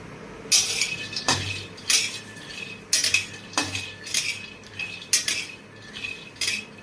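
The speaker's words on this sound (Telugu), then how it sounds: "ఇందులో నూనె కానీ ఏమి వెయ్యక్కర్ లేకుండా పొడిగా ఒక పావు కేజీ వేరుశనగ గుళ్ళు వేసాను బాగా కొంచెం ఎర్రగా వేగించుకోవాలి" Peanuts dry-roast in a pan with no oil, about a quarter kilo, and a utensil scrapes and clinks against the metal in an irregular rhythm of close, bright strokes.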